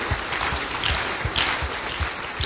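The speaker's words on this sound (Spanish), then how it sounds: "Puedes darle un aplauso de alabanza a nuestro Señor Jesús" Church congregation clapping in praise, a steady rhythmic beat of many hands with low thumps at regular intervals, fairly close and continuous.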